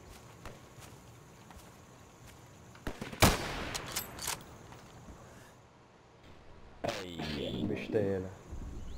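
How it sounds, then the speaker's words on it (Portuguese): Gunfire rings out in a shooter video game. Sharp cracks and short bursts come around the middle, with a later cluster of shots and echoing tails, all set against a quiet low background. "Tá dando tiro aqui, velho. O tiro dele tá pegando aqui."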